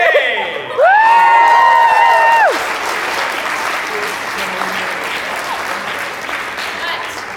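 Loud applause and cheering from a university crowd at a student bridge-breaking test, opening with a few bright whoops and shouts that fade into steady, dense clapping lasting several seconds.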